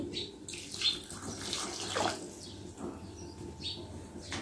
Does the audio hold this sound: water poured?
yes